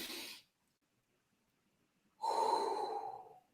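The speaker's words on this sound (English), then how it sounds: "Let me breathe." One person breathes heavily and deeply, a short exhale and then a longer drawn-out breath after a silent pause, close and fairly loud with no speech.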